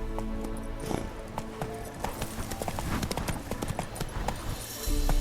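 Roach, the horse in The Witcher 3: Wild Hunt, gallops with a quick, steady clip-clop of hooves close by, the beats continuing throughout under a rumble that swells at the end.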